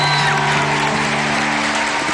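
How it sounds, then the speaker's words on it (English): Audience applause greeting a dance pair as they take the stage at a dance show, a dense, steady wash of clapping throughout with music tones sounding underneath. "set the stage and give a round of applause to pair number 3, Charlie Camacho and G Tongi."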